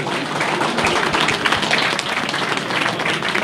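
At an awards ceremony, an audience applauds loudly and evenly. The dense, continuous clapping fills the whole stretch with no break.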